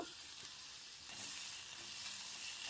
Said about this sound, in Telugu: ఇప్పుడు ప్యాన్లో కొంచెం ఆయిల్ వేసి రెండు టమాటోలు